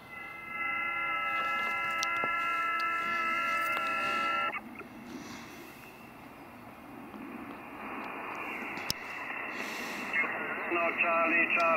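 Amateur radio band traffic comes through a receiver when a new antenna is tried, with steady tonal carriers and hiss for several seconds, then noisier static and faint voice-like signals, moderately loud throughout.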